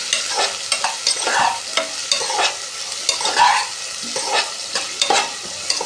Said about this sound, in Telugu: ఇప్పుడు ఫ్రై చేసుకోవాలి, మంచిగా మగ్గేటట్టు చూసుకోవాలి ఆనియన్స్.